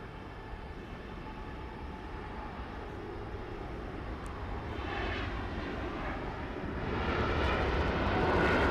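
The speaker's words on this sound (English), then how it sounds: "Lufthansa cleared for takeoff. Beginning that takeoff roll in the golden hour." A Lufthansa Boeing 747 jet on its takeoff roll at Los Angeles, a loud, continuous engine roar heard from a distance that steadily builds in intensity.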